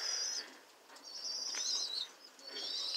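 Pigeons on a cold Colorado day flap their wings in several quick bursts near the nest while a parent feeds a baby, with faint soft calls between the flutters.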